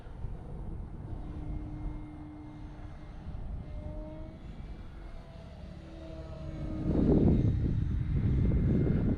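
An E-flite Carbon Z Cub SS electric RC airplane takes off outdoors on a cloudy day. A faint whining motor tone rises in pitch over steady wind rumble, then swells into a louder roar near the end.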